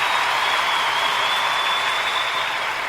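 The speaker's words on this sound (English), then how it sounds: "So an applause, standing ovation." Standing-ovation applause sound effect played during a birthday celebration broadcast: a steady, dense wash of many hands clapping, loud and even throughout with no gaps.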